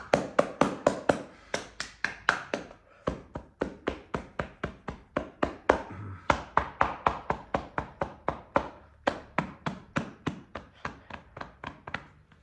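Cupped hands tap rhythmically on the body during a yoga session, giving a long run of steady, hollow, evenly spaced pats, close and fairly quiet, with a brief pause partway through.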